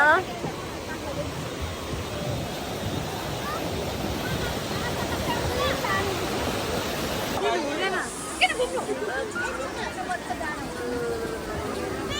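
Loud rushing water roars steadily throughout, broadband and close, with wind buffeting the microphone and brief voices in the background.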